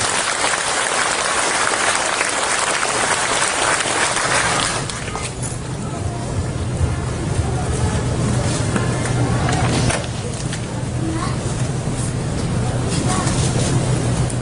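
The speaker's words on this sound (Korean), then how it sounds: "뜨거운 박수로 맞아주십시오" Applause at a Seoul signing ceremony on school support for aircraft noise zones, welcoming the education superintendent: dense, sustained hall clapping that fills the first five seconds, then thins into scattered claps under room murmur and voices.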